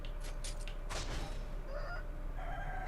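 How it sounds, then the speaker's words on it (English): A chicken in the video game Sekiro: Shadows Die Twice gives a few short, sharp clucks and squawks over a low, steady game ambience, fairly faint and close, with no talking. "He's quite a hardy chicken also."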